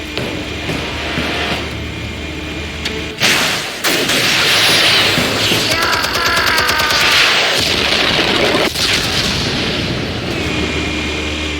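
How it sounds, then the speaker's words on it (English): Armed explosives detonating in a Batman Telltale game scene, a sudden loud blast that swells into a sustained rumbling roar of debris and crackling fire for several seconds, with a second sharp burst near the end. "Explosives armed. Fire when ready."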